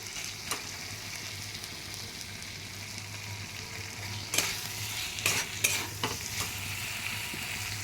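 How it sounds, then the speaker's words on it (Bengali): Water poured into a hot pan of katla fish curry with potatoes, a continuous sizzle with a few sharp splashing bursts and stirring clinks midway. "এবার আমি এতে জল দিয়ে দেবো"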